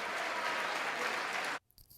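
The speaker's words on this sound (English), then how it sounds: "Now you know why they were cheering." Loud, dense cheering and applause fill the House chamber after a motion is adopted, holding steady for about a second and a half before cutting off abruptly into near silence.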